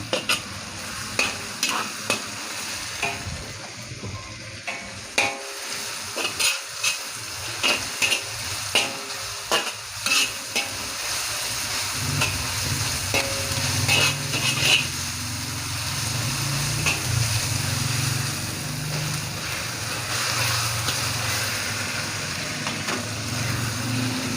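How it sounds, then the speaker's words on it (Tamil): Ginger and garlic sauté in a pan, with a spoon clicking and scraping repeatedly against the metal at first. A steady frying sizzle then grows fuller and louder under continued stirring, and no one talks. "இஞ்சி பூண்டு கொஞ்சம் வதங்கினதுக்கப்புறமா தக்காளியை சேர்த்துக்கலாம்."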